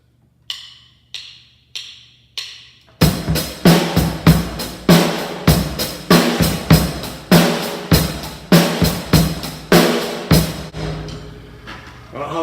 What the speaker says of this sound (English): I was kind of overplaying the hi-hat.